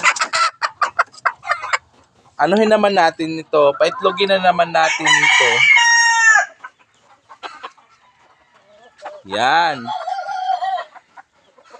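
Laying hens cluck and squawk loudly up close in bursts, with a person talking intermittently between the calls.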